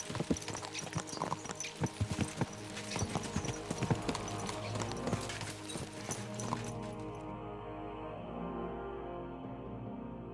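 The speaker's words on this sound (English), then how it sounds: "Let's really spur these horses on, eh?" Horses gallop in Kingdom Come: Deliverance 2, with dense clip-clop hoofbeats that are loud and close at first and then give way to a steadier, softer drone.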